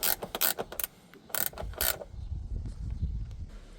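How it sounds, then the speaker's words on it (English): Ratchet spanner clicking while tightening a bolt during a Thinkware Q850 dash cam install in a 2019 Volvo XC90; several quick bursts of close ratcheting clicks, then a softer mechanical rattle. "you can usually use a ratchet spanner to just get it just about in and tie the rest off"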